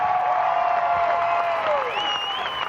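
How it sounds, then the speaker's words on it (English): A crowd applauds and cheers steadily as a player is introduced at a 1995 WPVA beach volleyball open in Grand Haven, with a dense wash of clapping held at constant loudness throughout. "Let's have a big hand for a 3-time All-American from UCLA"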